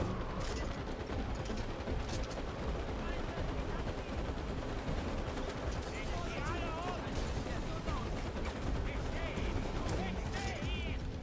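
Rapid automatic gunfire and explosive bursts from the video game Far Cry 4 during a fight at a temple, dense and continuous throughout with voices talking over the din.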